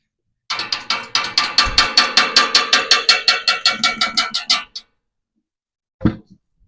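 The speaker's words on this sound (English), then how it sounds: "That's all it takes to make that hose prime up, and it's siphoning fuel out of the tank right now." Siphon hose being primed to drain diesel from a John Deere tractor fuel tank, a rapid even run of about twenty close sharp rattling pumps over four seconds, then silence and one short clunk.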